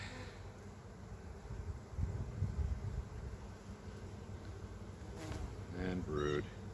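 Honey bees buzz steadily around an open hive during an inspection of brood frames, a dense low drone with individual bees passing close, plus a brief faint knock and a few soft higher tones near the end.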